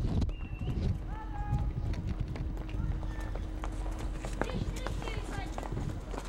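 Hooves of donkeys or camels carrying tourists through Petra, Jordan, clatter at a running pace close by on stone ground, with a few animal calls, while a narrator talks over the scene.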